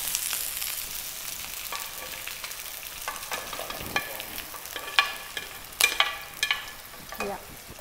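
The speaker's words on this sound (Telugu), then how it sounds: "ఇప్పుడు ఏం చేయాలంటే స్టవ్ ఆఫ్ చేసి ఈ పీసెస్ అన్నీ ఈ గ్రేవీలోకి షిఫ్ట్ చేద్దాం" Grilled chicken pieces being stirred into tomato gravy in a pan with the stove switched off, giving a soft wet sizzle with scraping spoon strokes and occasional sharper clinks against the pan, close and clear.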